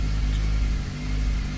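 A car engine idles roughly just after starting, with a low, uneven rumble and choppy pulses running steadily and close by.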